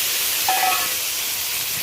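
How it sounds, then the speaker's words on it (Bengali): Pointed gourd (potol) frying in hot oil, a continuous loud, even hiss that runs for the whole stretch without a break and with no voices over it. "এবার পটলটা ভেজে নেব।"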